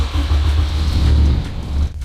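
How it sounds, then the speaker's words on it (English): A turbocharged K24 car engine with its exhaust valves open, one by the downpipe and one at the rear muffler, rumbles loudly with a deep low idle that swells slightly and then dips near the end. "we're going to start the engine now, and then we'll take a look in a moment to see how it sounds with the valves open"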